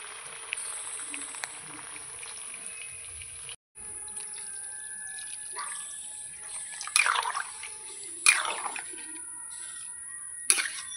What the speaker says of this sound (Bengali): মাংসটা আমার কষানো হয়ে গেছে, এবার জল দিয়ে দেবো।